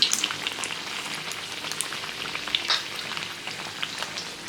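Mughlai paratha frying in oil, a steady bright crackle and sizzle like light rain, continuous and close, with no voices.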